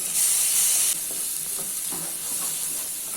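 Ground spices being stirred into butter chicken masala frying in a pan, a steady close sizzle with a brief louder hiss at the start and soft scraping stirs throughout.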